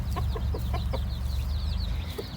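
A head rooster and a hen cluck softly and repeatedly at close range, short throaty calls over a low background rumble.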